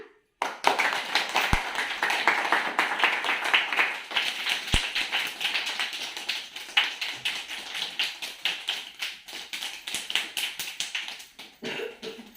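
Many hands clap in a group imitation of rain, starting as a dense, loud patter of rapid taps that gradually thins and softens as the rain fades away, ending quietly.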